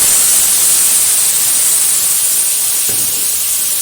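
Marinated amudi fish hits hot white oil seasoned with black cumin, giving a loud, dense, continuous sizzle close up with no voices.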